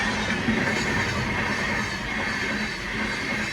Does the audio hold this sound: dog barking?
no